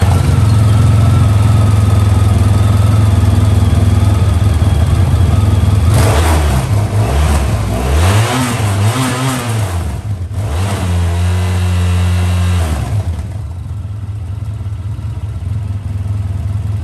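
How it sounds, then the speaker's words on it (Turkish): A Honda Crosstourer motorcycle with an exhaust leak runs at a steady, loud idle, is revved hard several times in the middle, then drops back to idle. "Son olarak motoru çalıştıracağım ve egzoz kaçağını size dinleteceğim."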